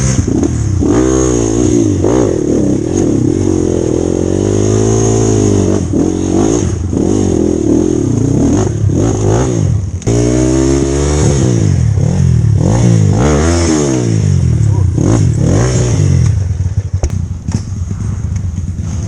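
A trail motorcycle on a rough off-road track in Parangloe revs hard and repeatedly, its loud engine pitch rising and falling as it accelerates. Rattles and scrapes mix in close to the rider.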